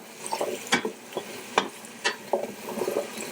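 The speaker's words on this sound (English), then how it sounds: "our potatoes, give them a quick stir" Carrots and potatoes stirred in a soup pot for a Finnish-style salmon soup, a few close scraping strokes and light clacks against the pot spaced irregularly over faint sizzling, with no talk.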